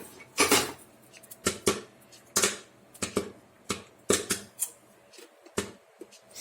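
Popcorn kernels rattle inside a pressure cooker, shaken in quick bursts of hard clattering about once every half second to second, loud and close, with brief quiet gaps between shakes.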